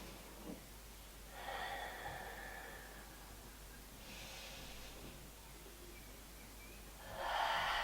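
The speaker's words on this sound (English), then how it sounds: "Deep breaths. We'll take 2 deep breaths." Slow, deep breaths during a yoga class, three soft airy inhales and exhales spaced a few seconds apart, faint and close over a quiet background hum.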